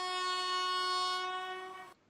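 A single sustained train horn blast rings out loud and close for about two seconds, then cuts off abruptly, leaving near silence.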